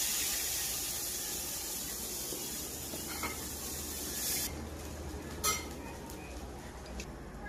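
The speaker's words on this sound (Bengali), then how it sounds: "এবারে আবারও এক হাতা ব্যাটার দিয়ে দেব" Semolina batter hits a very hot aluminium wok with a sustained bright hiss and sizzle that drops off abruptly, followed by a few faint clinks of utensils.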